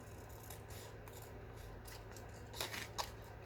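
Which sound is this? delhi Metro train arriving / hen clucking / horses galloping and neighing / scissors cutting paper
scissors cutting paper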